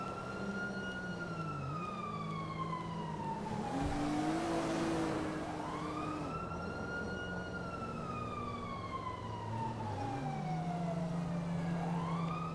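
A police or fire siren in GTA 5 wails in long rising and falling sweeps, steady and fairly loud over a constant background rumble of traffic, with no talking.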